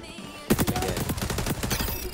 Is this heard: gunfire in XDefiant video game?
yes